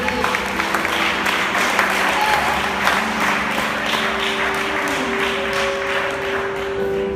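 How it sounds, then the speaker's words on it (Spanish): Church congregation clapping loudly and steadily at a healing service, dense continuous applause mixed with sustained musical tones in the background. "Dale fuerte palmas porque tienes fe."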